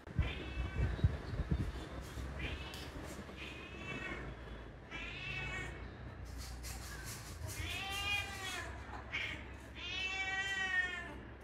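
A cat meows indoors in a home, several drawn-out wavering cries spaced over several seconds, the later ones longer and louder, with a person's voice speaking softly in between.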